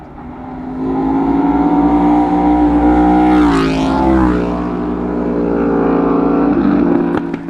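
A motorcycle, likely a Yamaha R1M, sweeps past on a road with a rising and falling engine note, loud and close, peaking midway before fading under a steady engine drone.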